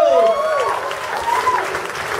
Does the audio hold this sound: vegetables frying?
no